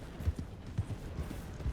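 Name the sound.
horse moving, from Red Dead Redemption 2 video game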